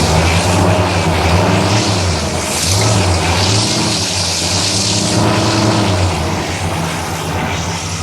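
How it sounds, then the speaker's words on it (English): An air suspension compressor runs on a bagged 1965 Cadillac, giving a loud, steady mechanical drone with a continuous hum. The sound stays close and unbroken, with no talk over it. "Now, the compressor is running, the amp is on"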